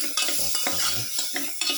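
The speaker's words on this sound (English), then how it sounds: "Put in the tomato pieces." Tomato pieces going into a sizzling pan for a pepper chicken liver cashew stew, a loud, steady hiss of frying with repeated scraping stirs and light clinks of a utensil, close up and without talk.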